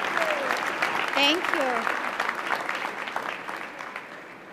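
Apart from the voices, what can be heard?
audience applause at commencement ceremony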